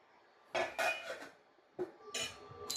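A spoon clinks and scrapes against a metal pot while sambar with coriander is mixed, in a few short separate bursts of clatter with quiet gaps between.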